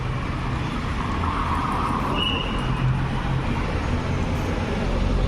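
Street traffic in Asia where pickup trucks are the common vehicle, a steady loud road rumble of cars passing close by with no gaps, continuous throughout.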